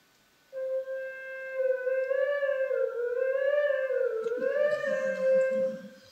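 A smooth electronic synthesizer tone rises and falls in slow siren-like sweeps as its frequency is swept by hand, steady and fairly loud, with a faint rustle near the end.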